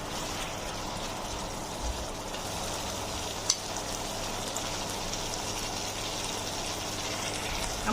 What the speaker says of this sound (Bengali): আমার গ্রেভিটা ভালোভাবে ফুটে উঠেছে